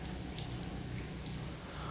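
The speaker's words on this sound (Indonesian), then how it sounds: "Hujan lah." Steady rain falling outdoors near a mosque, a dense continuous hiss of drops on surfaces, even and unbroken throughout, with no talk.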